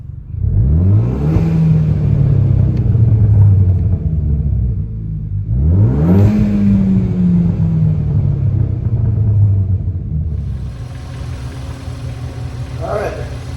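A car engine fitted with a new sequential blow-off valve revs up twice in rising sweeps, each settling back down, followed by a steady idle with a hiss layered on top toward the end.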